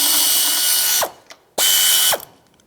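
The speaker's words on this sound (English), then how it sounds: "Break it free with a 14mm socket." Two quick, loud bursts of rapid ratchet clicking loosen an idler pulley bolt with a 14mm socket on a 1997-2001 Lexus ES 300, each ending abruptly in a short pause.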